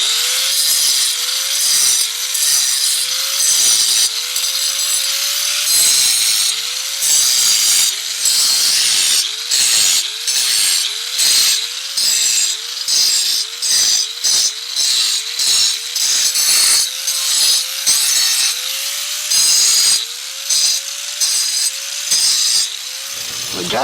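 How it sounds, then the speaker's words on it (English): A small handheld grinder scars up a concrete surface ahead of a patch repair. Its loud, steady whine dips repeatedly in pitch as the blade bites and is lifted, continuing almost without a break. "I got my little grinder."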